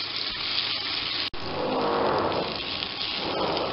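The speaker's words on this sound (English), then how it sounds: "So the curry leaves are added and you keep frying." Steady loud sizzling of vegetables and curry leaves stir-frying in a hot pan, with a brief cut in the sound near the start, no voices.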